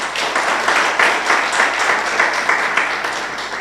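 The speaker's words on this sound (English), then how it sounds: "a round of applause for her" Steady applause from an audience at a memorial lecture, sustained clapping throughout, fairly loud and dense with no pause.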